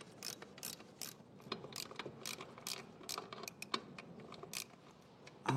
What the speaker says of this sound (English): So I will have to undo a couple of bolts, and then we can take this entire bar out.